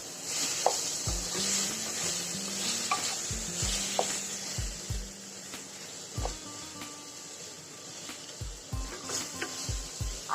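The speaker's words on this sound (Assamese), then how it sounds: "আলুখিনি অকণমান ভজা লাগিছে" Finely chopped potatoes frying in spices for a jackfruit seed curry, a steady close sizzle broken by repeated scraping stirs and clinks of a utensil against the pan.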